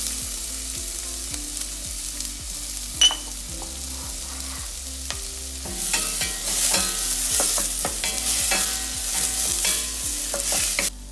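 Onion sizzling in generous extra virgin olive oil in a saucepan over medium heat, a steady close fry broken by regular spoon stirring scrapes, growing louder and brighter midway.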